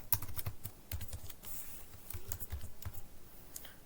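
Fast typing of HTML code on a computer keyboard, a steady patter of crisp, close key clicks in irregular bursts with no talking.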